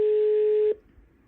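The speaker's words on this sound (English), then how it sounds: "Is it not ringing? It's ringing." A telephone line on a radio call-in show gives one steady, fairly loud ringing tone that cuts off abruptly after about three quarters of a second, followed by quiet.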